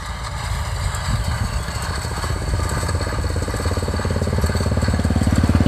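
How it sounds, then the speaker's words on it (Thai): The four-cylinder engine of a DC-70 hay baler in Buriram runs close and loud, its steady rumble swelling into a faster rhythmic knocking as it works. "เครื่องยนต์4สูบครับผมประหยัดน้ำมันอยู่"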